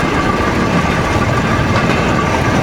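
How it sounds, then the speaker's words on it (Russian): Railway wagons are uncoupled on a narrow-gauge railway near Alapaevsk. A steady, loud rumble of rolling stock and machinery runs throughout with no clear breaks. "Расцеп вагонов."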